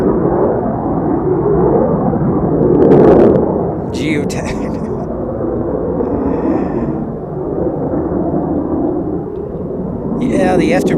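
A military jet's afterburner roars at Hill Air Force Base, a heavy, sustained rumbling blast that swells and eases slightly, with people talking faintly over it.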